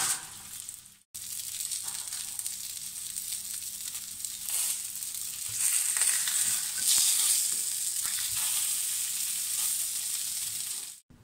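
Arepas sizzle and fry in a hot pan as they are flipped to char, a steady, close crackling hiss that cuts out briefly at the start and fades at the end, with no talking.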